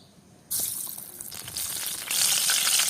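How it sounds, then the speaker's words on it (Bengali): Gram-flour batter-dipped sweet pumpkin slices dropped into hot oil, a sudden loud hiss that settles into steady bubbling, then swells louder as more pieces go in, close up. "এখন এই মিঠা কুমড়ের ফালাটি বেসনের মধ্যে চুবাইয়া গরম তেলে ভাজবো।"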